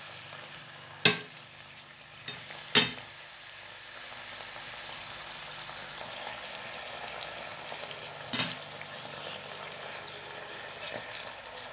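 Spinach stir-frying in very hot oil in a small kitchen for a Thai oyster-sauce dish, a steady broad sizzle running throughout with a few sharp clatters and bursts near the start and middle, fairly close and with no talk.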